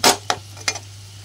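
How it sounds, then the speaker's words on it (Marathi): A spoon stirring fried potatoes in a pan, three distinct scraping clinks spaced apart over a steady low hum, fairly quiet and close. "बटाटा असा फ्राय झालाय बघा. त्याच्यात आता चमचा टाकून घेऊया."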